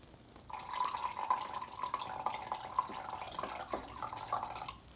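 Rice vinegar poured into a measuring cup, a steady thin liquid trickle running for several seconds, close and fairly quiet, with no talking.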